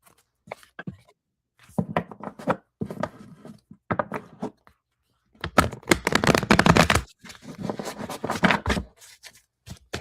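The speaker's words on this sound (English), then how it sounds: "I feel like my cards are so loud when I shuffle." Tarot cards are shuffled by hand in several loud, rapid riffling bursts with short pauses between them, close up and with no talking.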